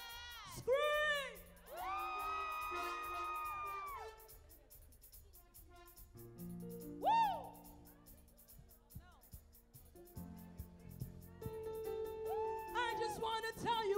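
A crowd of children screams and whoops loudly at a youth service event at the Silver Spring Civic Center, with bursts of shrill cheering rising and falling between pauses and a voice speaking among them.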